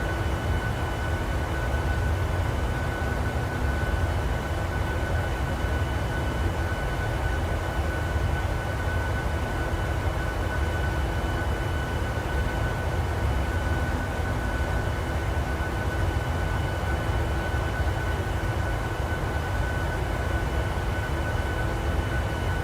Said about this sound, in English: it's a virtual airline flight, so I figured I would just get it done.